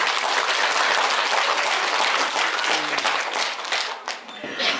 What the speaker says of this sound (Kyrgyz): Дагы бир жолу катышуучулар үчүн катуу кол чаап койсоңуздар.